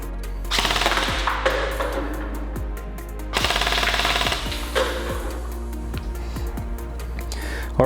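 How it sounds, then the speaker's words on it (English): A Well MRT 2S M4A1 gel blaster firing on an outdoor field, loud rapid bursts of mechanical full-auto shots with short pauses between strings, close to the listener. "we'll also show you this blaster shooting at your 10 and 20 meter mark on the field."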